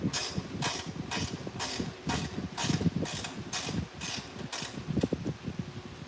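A ratchet works a bolt loose on a 2025 Toyota Tacoma, giving a regular series of about ten close clicking strokes with mechanical rattling between them.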